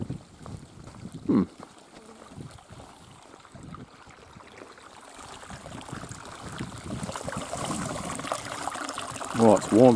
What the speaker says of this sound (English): I hear water flowing.